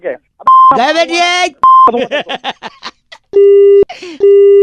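Several loud electronic beeps, steady tones of a phone call cutting off, interleaved with short bursts of talking on a radio show.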